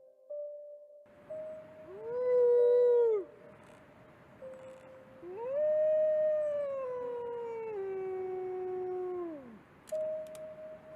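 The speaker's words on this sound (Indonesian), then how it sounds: "lolongan." Wolves howling in the wild, two long rising-and-falling calls, then a third sustained howl with a steady tone running beneath, clear and fairly near against a quiet background.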